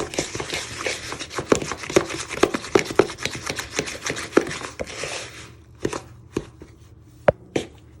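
Cake ingredients being creamed in a bowl with a wooden spoon, a run of scraping, knocking strokes close by, fast and busy at first, then thinning to a few separate clacks.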